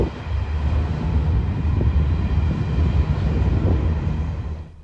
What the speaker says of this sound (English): Now 2 minutes since the start of the train, and it's now beginning to accelerate.